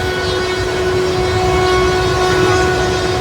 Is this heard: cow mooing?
no